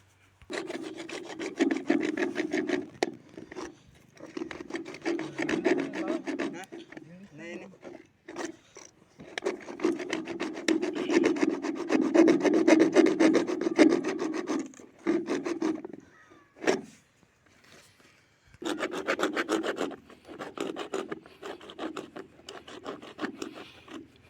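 A pipe is cut by hand in repeated rasping sawing strokes that run in long stretches with short pauses between them, fairly close, with talk in places.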